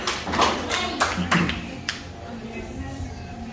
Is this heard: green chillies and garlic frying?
no